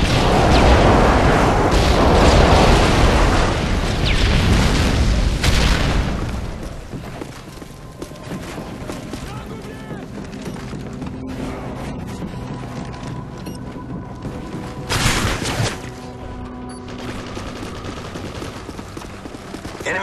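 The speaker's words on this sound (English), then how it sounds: "Friendly airstrike on the way." Airstrike explosions in the video game Modern Warfare 3 during team deathmatch, with heavy booms and rapid gunfire fusillades loud at first, then thinning to scattered shots and a late blast over a quieter stretch.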